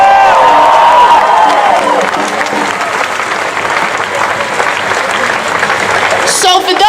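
A large audience breaks into loud, sustained applause with some cheering, a dense close-up roar of clapping that carries on strongly to the end.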